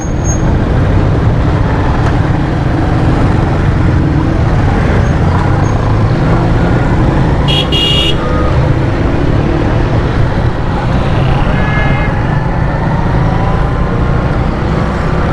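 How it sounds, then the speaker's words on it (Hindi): Dense road traffic flows past near a busy mobile market, a continuous loud rumble of cars, buses and trucks with a brief high horn blast midway. "अब ये ट्रैफिक यहाँ से जा रही है"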